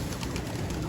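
Pigeons gathered at a temple: soft, low cooing over a dense wash of flock noise and ambient hiss, steady and close throughout a brief moment.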